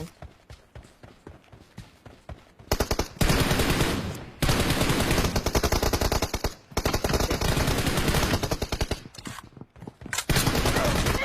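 Rapid automatic gunfire from PUBG Mobile during a team deathmatch fight, loud sustained bursts with short pauses after a few opening shots.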